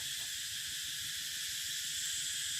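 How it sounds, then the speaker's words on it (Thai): Cicadas droning in an outdoor rural setting, a continuous high-pitched shrill hiss that holds steady throughout, faint and distant with no voices. "มีแต่เสียงแมงจักรจัน"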